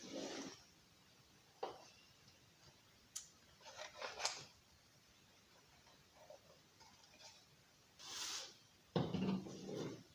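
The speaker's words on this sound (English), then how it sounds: "now we've got this template and we're going to cut it out." Scissors snipping through a paper template at a craft table, a few sparse, quiet cuts spaced out over a near-silent room, with a brief louder rustle toward the end.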